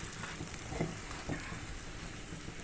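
Oil sizzles steadily in a pan on the stove while stuffed Guntur chillies with roasted gram filling fry, a dense continuous crackle with a couple of soft stirring knocks, close and alone.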